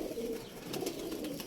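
A pigeon, a homing bird that returned after flying out during the month of Jeth, coos softly in low, steady murmuring tones, close by and alone, with faint chirpy noise above.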